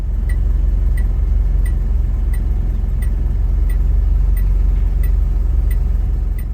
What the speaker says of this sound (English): Take a listen to the chimes when you first get in.